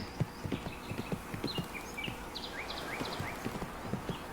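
Horse hooves clip-clop in a steady trotting rhythm during a cross-country ride in the video game Riding Star, close and moderately loud, with bright birdsong chirping over the top.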